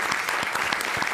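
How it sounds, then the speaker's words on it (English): A short burst of audience applause for a panel at a conference session on risk assessment and tiered care, dense clapping from a room full of people. "one more round of applause for the great panel"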